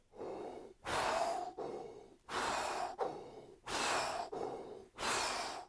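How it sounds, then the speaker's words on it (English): A trombonist performs a breathing exercise, drawing long, deep audible breaths in and out in a steady rhythm of alternating inhales and exhales, close and clear with no talking. "I do 4 in, 4 out, and then I'll do 4 quick breaths"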